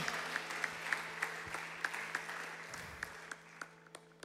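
A church congregation claps during worship in a steady, fairly even rhythm, the sharp claps standing out over a faint hum and fading slightly toward the end.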